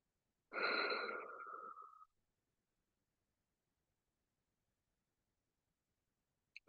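During a yoga class, one long, audible exhale sounds close to the microphone, breathy and slightly wheezy, followed by several seconds of near silence.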